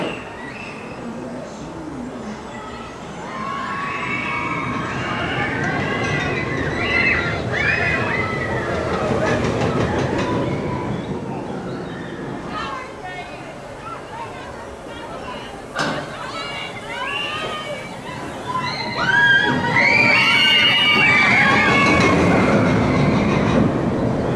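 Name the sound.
Dragon roller coaster ride at LEGOLAND Windsor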